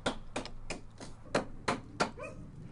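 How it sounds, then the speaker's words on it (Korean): A hammer drives a chisel into wood being carved for a haegeum. About six sharp, quiet knocks fall at uneven intervals against a faint background. "망치와 끌을 통해 전해지는 울림"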